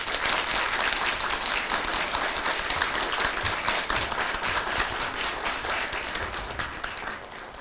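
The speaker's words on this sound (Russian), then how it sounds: "Анна Рус, которую под ваши аплодисменты я приглашаю на эту сцену." A hall audience applauds loudly as a guest speaker is welcomed onto the stage, many hands clapping in a dense, sustained roar that eases slightly toward the end.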